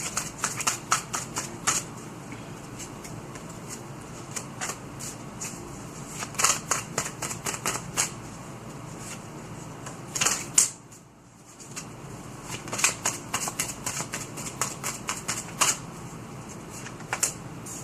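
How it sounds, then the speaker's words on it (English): Tarot cards being shuffled and pulled, a long run of quick close snapping card flicks with brief pauses and one short lull midway, fairly loud and steady, no voices. "let's go ahead and pull the cards"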